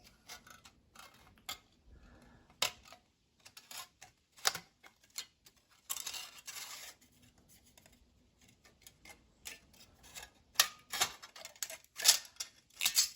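Scissors snipping through thin sheet steel cut from a roast pan in a kitchen, a series of sharp metallic crunches and clicks in irregular bursts with quiet pauses between, close and fairly loud.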